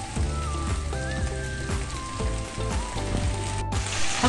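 Mushrooms sizzling steadily in a hot pan after steak has been taken out, a loud continuous crackle over lively background music.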